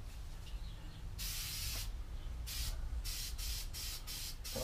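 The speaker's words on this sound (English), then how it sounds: "So spray some glue on there like that." A long hiss of an aerosol glue can spraying, followed by several short sprays in quick succession, close and fairly loud.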